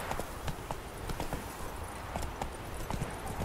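Rapid, rhythmic hoofbeats of the horse Roach galloping steadily in The Witcher 3, close and continuous, with a brief faint whinny-like touch and no talking.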